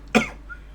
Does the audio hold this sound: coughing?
yes